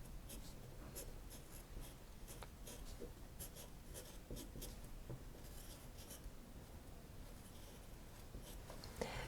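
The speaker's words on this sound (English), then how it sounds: "So I'll just write that down." A pen scratches across a paper sewing pattern, marking dart legs with short repeated strokes and light rubbing, close and faint, with no talking.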